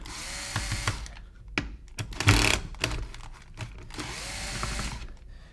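Small screws being turned out of a rifle stock body with a hand tool while an anti-chop bolt with spring is worked on, giving close, faint, irregular clicks and scrapes in short bursts.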